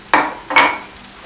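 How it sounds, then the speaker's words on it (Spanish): Two short scraping stirs of raw vegetables and salt in a pot, with no water added, each a brief gritty swish close by, alone with no talk. "Vamos a revolverlo."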